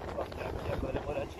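Steady coastal wind gusting and buffeting the microphone near windmills on the shore at Esposende/Apúlia, Portugal, a continuous rushing roar with faint voices mixed in.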